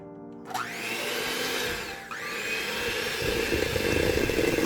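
An electric mixer creaming butter with packed brown sugar for banana bread, starting abruptly with a rising whine, dipping briefly midway, then a steady loud whir with a rougher churning texture, close and without speech.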